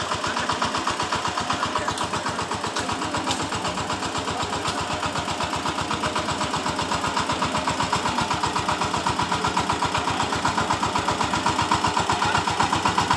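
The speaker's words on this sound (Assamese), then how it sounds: "এইফালে আহি আছে ট্ৰেক্টৰ" A tractor engine runs steadily near a farm field and pond, with a regular low chugging pulse, fairly close and loud, with no voices.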